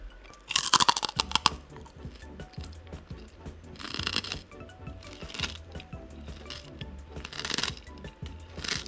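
Pork rinds are chewed close to the mic, with several loud crisp crunching bursts separated by quieter chewing and pauses.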